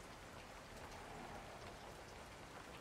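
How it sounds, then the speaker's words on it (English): Steady rain falls in a horror game, a dense, even hiss of drops on surfaces that stays constant and quiet throughout, with no voices. "And it's raining now."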